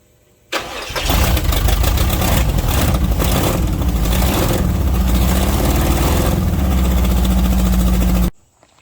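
An M37 truck engine with its timing off and its exhaust only half connected starts up and runs loud and close. It holds a steady, rough, tractor-like roar for several seconds and then cuts off.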